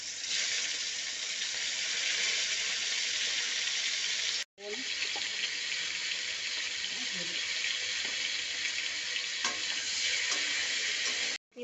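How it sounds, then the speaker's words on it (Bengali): Cauliflower frying in oil produces a close, steady sizzle with faint stirring crackles, interrupted by two short breaks. "এবার কপিটা ভেজে নিচ্ছি।"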